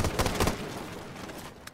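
Gunfire in the video game Rainbow Six Siege, a rapid burst of loud close shots at the start that trails off into a rattle, with no talk.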